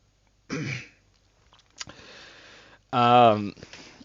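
A voice imitates a priest clearing his throat, two short throaty bursts close to the microphone in a quiet room, separated by a faint breathy sound.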